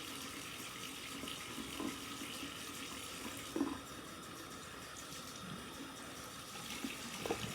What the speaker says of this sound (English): I try to rinse out as much as I can off my makeup eraser when I run it underwater